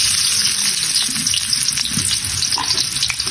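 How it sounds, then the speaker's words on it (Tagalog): Onion and garlic sizzle loudly in hot cooking oil, a close, dense frying crackle with busy popping that runs throughout, with no voices. "So magigisa na tayo, mainit na rin ang ating mantika. Ilagay na natin ng sibuyas"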